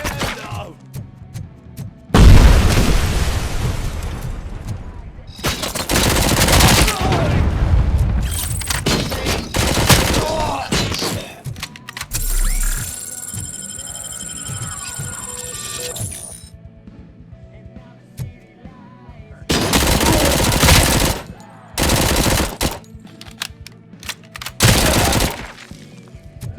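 Gunfire in the first-person shooter RoboCop: Rogue City, with loud bursts of shots and heavy impacts that come and go in clusters amid other combat noise.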